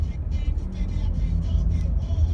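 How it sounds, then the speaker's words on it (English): Saturday evening road traffic heard from inside a car, a steady low rumble of engines and tires with a faint hum from passing vehicles, continuous and fairly loud. "I can't believe there's this much traffic at this time"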